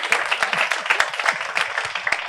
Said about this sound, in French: On veut que vous vous applaudissez,